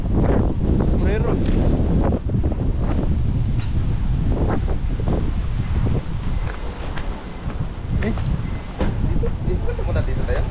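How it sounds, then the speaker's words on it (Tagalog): Strong typhoon wind buffets the microphone in loud, continuous gusts during a storm with heavy rain, with a person speaking and exclaiming over the roar. "Ang lakas po ng hangin."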